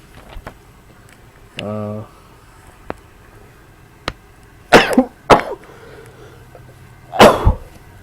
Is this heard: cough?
yes